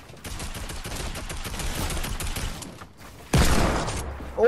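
Desert Eagle pistol fire in Fortnite comes as a burst of sharp, rapid close shots for about three seconds, a brief pause, then a loud heavy blast followed by another shot at the very end.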